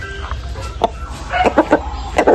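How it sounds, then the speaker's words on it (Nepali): A red rooster gives a few short, close clucks in quick bursts near the end, over a rough outdoor background. "रातो भाले"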